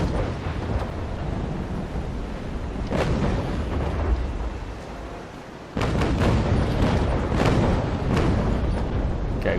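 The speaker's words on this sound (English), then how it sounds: "we've got some good shots on the Constitution there, and also damaged the sails of the Snow firing through them" Sailing-ship cannon broadsides in the naval combat game Naval Action, with a brig and frigates trading fire: dense, continuous rumbling booms and crackling blasts with sharp new volleys near the three- and six-second marks, loud and without speech.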